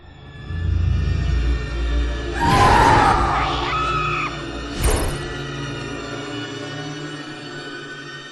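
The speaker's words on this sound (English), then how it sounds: "We heard a scream!" A woman's scream in the point-and-click adventure game A Vampyre Story rings out loud and close for a couple of seconds, with game music and ambience underneath and a short second cry after it.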